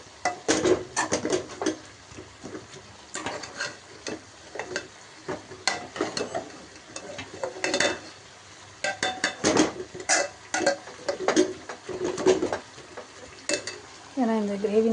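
Repeated stirring and scraping of chili fry in a pan over a steady sizzle of frying, with clinks of utensil against metal throughout.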